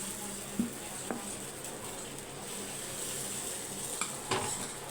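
Paniyaram batter sizzles in the wells of a paniyaram pan, a soft, steady frying hiss with a few faint clinks and taps, close and quiet with no talk.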